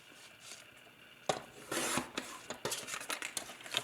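A paper trimmer slices cardstock for a handmade bookmark: a quiet lead-in, then a sharp rasping cut of about a second, followed by several short crisp clicks and scrapes, close and with no one speaking.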